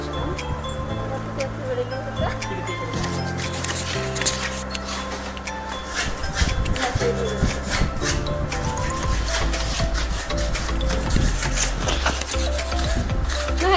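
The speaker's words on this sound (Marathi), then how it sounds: "बघूया त्यांचं पॉलिश काम." Hand polishing of a shadu clay Ganesh idol to smooth its rough finish, heard as steady rubbing and rasping strokes throughout at a workshop in Pen, with background talk and other workshop noise.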